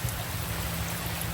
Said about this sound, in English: can you hear the rain? Oh, that is lovely.